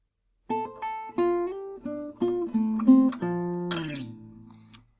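Electric guitar playing a slow melodic phrase from a song, clear single notes and slides ringing out one after another, with the last note decaying alone.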